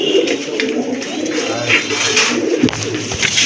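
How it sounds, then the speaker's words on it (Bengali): White tiger fancy pigeons coo softly amid a busy loft, their low burbling calls blending with other birds and a steady background hum while someone talks nearby. "এটাও কিন্তু খুবই চমৎকার অ্যাক্টিভ কবুতর।"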